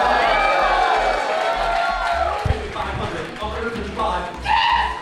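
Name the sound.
crowd cheering at a charity auction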